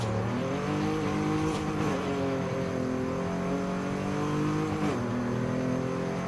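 Volkswagen Corrado VR6 turbo making 383 horsepower accelerates hard in Forza Horizon 5, its engine note climbing steadily through the gears with two quick shift dips and continuous loud revving.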